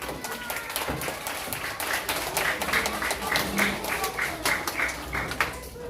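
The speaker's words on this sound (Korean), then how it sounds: "박수!" Children at an elementary church service clap together for several seconds, a fairly dense, lively round of applause with some uneven individual claps and faint voices mixed in.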